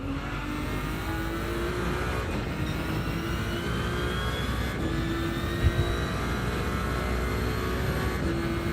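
A hypercar engine drones steadily in a racing game at the Nürburgring, a continuous loud engine tone with shifting pitch bands and a brief louder bump midway, no talking.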